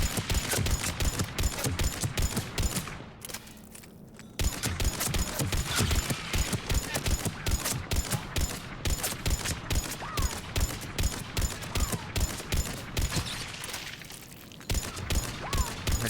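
A Ravager enemy in the Mass Effect 3 video game fires relentless rapid volleys, dense rhythmic blasts that pound on almost without a break, loud and close, with brief pauses between bursts.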